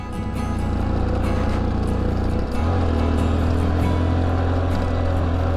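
A basic stock motorcycle labours up a steep mountain trail near Rodriguez, its engine droning loud and close throughout, with the pitch dropping and settling into a deeper, steadier pull about halfway through.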